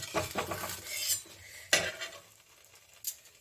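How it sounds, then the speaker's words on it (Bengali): Metal utensil scraping and clinking against the bottom of a pan while stirring a setting pizza-style pitha batter, a few clatters early then quieter scrapes with sharp knocks near the end, no voices. "একটু আমি নিচটা একটু একটু নাড়িয়ে দিচ্ছি"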